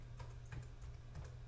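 Keys on a computer keyboard are tapped in a short, quiet burst, a few soft clicks within about a second and a half, with no speech.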